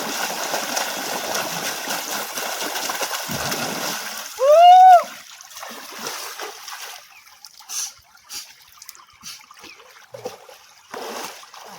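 Cold river water splashes in short bursts near the bank, with a trickling flow, one sharp whistling cry and scattered voices.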